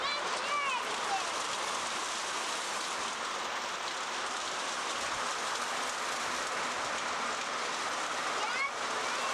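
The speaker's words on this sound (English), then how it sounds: "the rain is coming down and hard. From all different directions," Heavy rain pours down outside a house window, a dense, steady broadband hiss with no breaks, loud and close throughout, with a faint voice now and then underneath.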